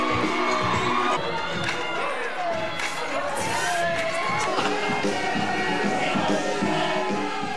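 A student audience at a campus fashion show cheers and shouts loudly and continuously, a dense crowd roar with whoops rising over it as models walk the stage.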